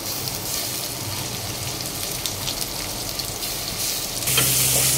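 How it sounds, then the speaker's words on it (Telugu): Onion paste and curry leaves fry in a pan for keema semiya, giving a dense, continuous close sizzle and crackle that swells louder near the end, with no talking. "కరివేపాకు కూడా వేసుకుంటున్నానండి. ఇక ఇది వేగాలి కొంచెం."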